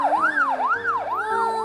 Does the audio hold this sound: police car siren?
yes